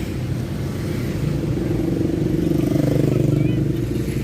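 Dense city road traffic in a long jam near the Wiang Charoen red light, a steady low rumble of cars and motorcycles with occasional engine revs, close and continuous, with faint talk mixed in.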